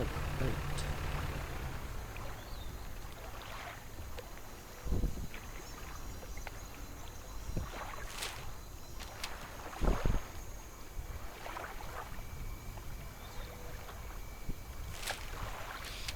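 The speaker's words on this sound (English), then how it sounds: "So it sounds like a boat." A boat from the video game Dredge glides across water with a constant wash of wind and waves, punctuated by occasional soft knocks and splashes.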